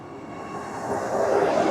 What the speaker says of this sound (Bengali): নবদ্বীপ স্টেশন থেকে বন্দে ভারত ছেড়ে রওনা দিল হাওড়ার উদ্দেশ্যে।